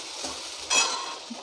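Soya chunks and vegetables fry quietly in a pan with a soft, steady sizzle, broken by a brief scrape of stirring partway through; no one speaks.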